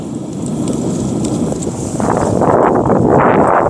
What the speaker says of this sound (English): Well, you know, it's windy.